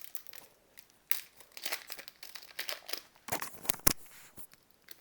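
Foil wrapper of a Pokémon trading card booster pack crinkling and tearing open up close, with irregular bursts of crackling and rustling that peak in a few sharp rips, no voices.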